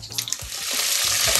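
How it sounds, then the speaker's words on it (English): Mustard and cumin seeds sputtering in hot oil for misal pav, a close sizzle that swells quickly, with scattered pops and a few spoon clicks at the start. "now that my mustard seeds are sputtering, I'm going to add a teaspoon of cumin seeds"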